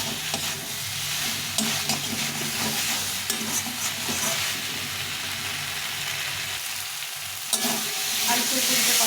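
Fried potato and cauliflower stir-fried with spices in a pan, a steady close sizzle with scraping stirs throughout, occasional louder clinks of the spatula, no talking.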